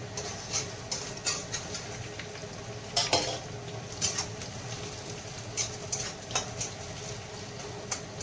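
Nigella seeds fry in oil in a pan, a faint steady sizzle punctuated by repeated light scrapes and taps of a spoon stirring against the pan, close and quiet with no talk.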